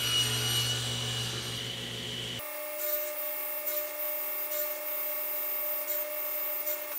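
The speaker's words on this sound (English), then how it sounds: "Now I just need to cut them to length." Saw cutting cherry tenon stock to length in a woodworking shop: a brief burst of rough, broadband sawing for about two seconds, followed by quiet shop tone with a steady hum.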